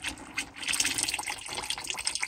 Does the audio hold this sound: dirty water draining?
yes